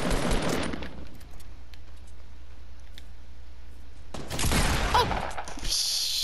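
Video game gunfire comes as rapid bursts of shots at the start and again near the end, loud and close, with quieter clicks and ticks between volleys.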